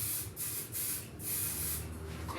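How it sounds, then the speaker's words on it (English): Aerosol adhesive sprayed in several bursts across the top of a salvaged table, a steady close hiss with short pauses between passes and no voices. "I'm just going to spray the general area."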